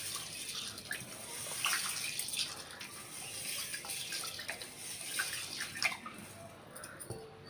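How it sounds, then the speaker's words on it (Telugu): Water is poured off washed mung beans in a kitchen, a soft trickling and splashing stream with small drips, fairly quiet and continuous. "ఈ వాటర్ వంపేసుకోవాలి శుభ్రంగా."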